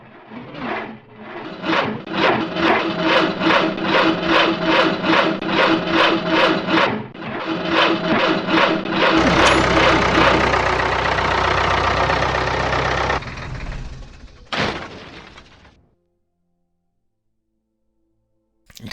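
An in-game vehicle engine in Hand Simulator: Horror cranks with the clutch engaged: a long, loud run of rapid rhythmic chugging pulses, then a rough roaring stretch that cuts off abruptly into silence.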